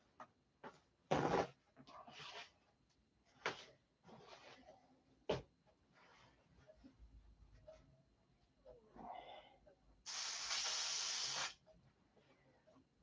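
An airbrush spraying to flush out orange paint, heard as short hissing bursts of air spray in separate blasts with quiet gaps and a longer final burst, along with faint handling noises.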